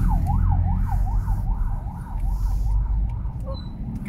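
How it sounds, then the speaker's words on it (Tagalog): An ambulance siren wails in a rapid rising-and-falling pattern, fairly close and loud, over a rumble of traffic on a road between Valenzuela and Meycauayan, Bulacan. "May ambulansya."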